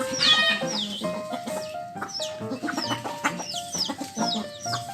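Chickens cluck repeatedly in a busy flock, overlapping calls and occasional higher squawks rising over a steady farmyard background.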